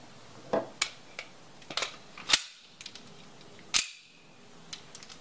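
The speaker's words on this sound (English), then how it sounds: "what is that? That was Smith's gun." A single sharp gunshot with a lingering tail rings out amid scattered clicks and knocks, followed by a second loud crack, with no talking over the sounds.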